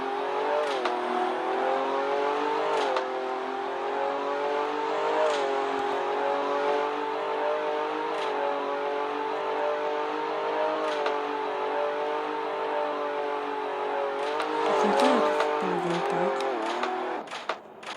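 A car in Roblox Car Dealership Tycoon accelerates hard, its engine whine holding loud and steady with repeated gear-shift dips, then a brief rev surge near the end.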